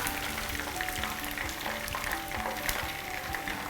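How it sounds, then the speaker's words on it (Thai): Steady crackling sizzle of chicken frying in hot oil, continuous and close, with faint stirring clinks underneath and no voices. "หลังจากเราทอดไก่เรียบร้อยนะคะ"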